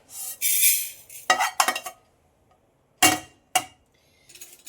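Roasted urad dal is tipped from a pan into another bowl, heard as scraping rattles and metallic clinks in short bursts, with quiet gaps between them.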